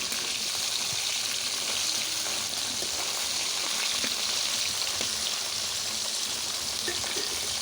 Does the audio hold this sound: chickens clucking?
no